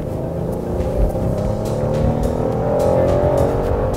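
A 2016 Ford Explorer with a V6 engine accelerating, a steady engine drone with rising tone heard from inside the cabin, continuous and fairly loud throughout.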